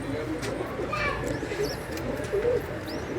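Soft cooing from Toly Walay pigeons kept by a fancier, low throaty coos with a few faint chirps, heard close under a steady background murmur.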